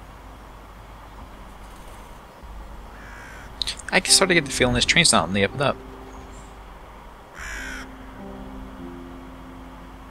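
A raven caws loudly several times in quick succession in the video game Charnel House Trilogy, over a steady hum, with talk before and a speaking voice around it.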